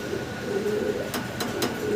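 Pigeons kept for sale, including a Norwich hen, give soft, low coos that repeat a few times against quiet background noise, with some brief sharp clicks between them.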